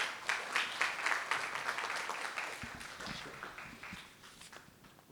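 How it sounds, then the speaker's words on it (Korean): An audience at a talk claps to welcome a speaker, a brisk burst of applause with distinct hand claps that slowly tapers off, a few low thumps near the end. "박수로 맞아주시기 바랍니다"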